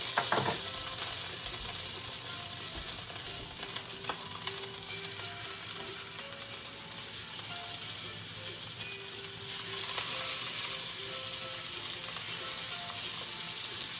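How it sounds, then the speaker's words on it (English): Scallops sear in a pan of seasoned butter with a loud, steady sizzle, crackling and spitting throughout, joined by a few metallic clinks and scrapes of a utensil against the pan. "We're going to drop our scallops into this pan while we got some seasoned buttery goodness going on there"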